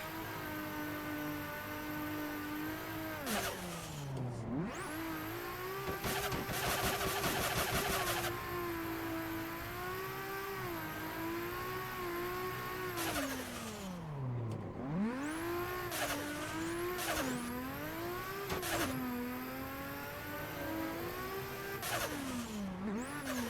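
Race car engine in a sim racing game played on a Moza HGP shifter setup: loud, high-pitched revving that climbs through the gears, drops sharply on downshifts and braking, then winds back up, with no talking.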